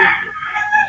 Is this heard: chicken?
yes